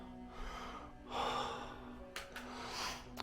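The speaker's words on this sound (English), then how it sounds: "Sorry if I'm heavy breathing, but that was a climb." Heavy, labored breathing from a man winded after climbing up into an abandoned, decaying hall, with gasping breaths and snorts close to the microphone over a faint steady hum.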